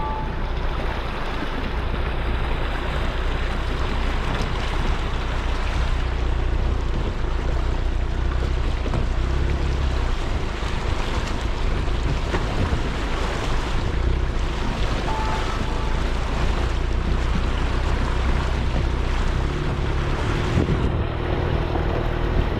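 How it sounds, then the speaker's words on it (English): A vehicle fords a river crossing in the Northern Territory outback, a continuous loud rushing wash of water and engine noise with wind buffeting the microphone throughout. "Going through the water."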